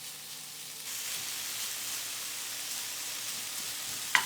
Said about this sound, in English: Then we're going to take the bacon, and put it in a pan. We're going to start cooking it down.